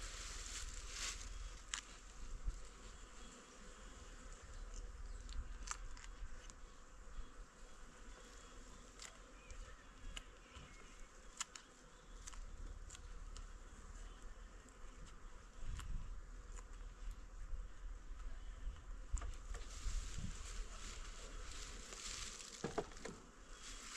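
A dense, steady hum of many honeybees buzzing up close at the hive, a continuous drone with occasional sharper clicks and rustles throughout.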